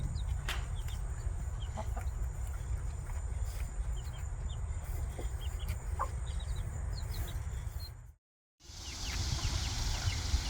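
A mother hen clucks softly while she feeds her two newly hatched chicks. The short, scattered clucks and peeps sit over a steady low outdoor rumble, fairly faint, and break off briefly near the end.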